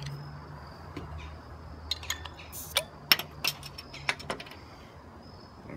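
An Abita Bourbon Street Baltic Porter beer bottle is opened with a handful of quiet, close clinks and clicks spread over a few seconds, with no talking.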